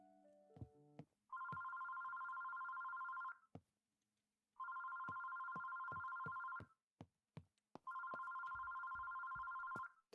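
A telephone rings in the horror video game Terroro with three long electronic ring bursts separated by pauses, plus scattered short clicks and taps, and no voices.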